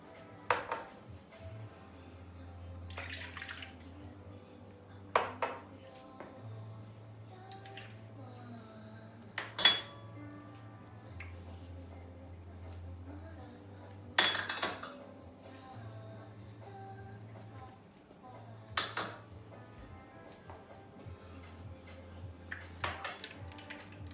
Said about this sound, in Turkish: Un hariç tüm malzemelerimi yoğurma kabıma boşaltıyorum